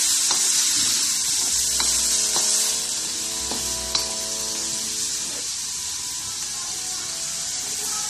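Shrimp sizzle steadily in a hot pan while being stir-fried for Filipino pancit bihon, a loud, continuous close frying hiss with a few faint clinks of a utensil.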